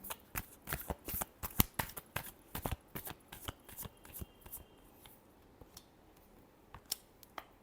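Tarot cards are shuffled in a rapid run of crisp riffling snaps, close and fairly quiet, tapering to sparser flicks toward the end.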